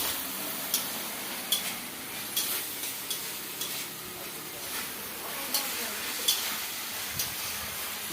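Potatoes and drumsticks fry in a pan with a soft, continuous sizzle, punctuated by light, regular taps and scrapes of stirring, fairly faint and close.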